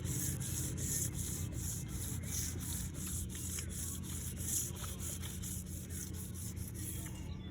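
Steady, continuous rubbing of wet sandpaper over car paint, a close, even back-and-forth scrubbing with a faint rhythmic pulse and no talk.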